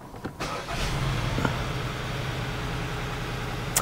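A car engine cranks and starts, then settles into a rough, uneven idle from a misfire on cylinder two, heard close and steady with no talking.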